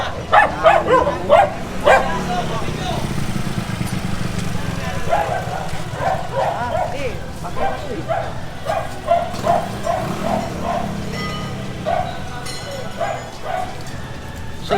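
A dog barking during a police clearing operation on a street: several sharp barks and yips in quick bursts, fairly close and loud, mixed with people talking and outdoor bustle.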